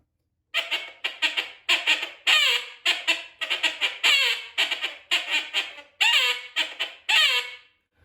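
A Kynat TH1 acrylic duck call imitating a female garganey, blown in a quick series of about a dozen short, raspy quacking notes, close and loud, with brief gaps between them and no other sounds.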